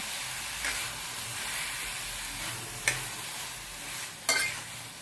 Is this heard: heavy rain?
no